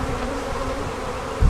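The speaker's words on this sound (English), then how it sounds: "There's a lot of bees migrating over one direction." A dense, steady hum of many bees in flight during a pre-swarm or mating flight, continuous and close, swelling briefly at the end.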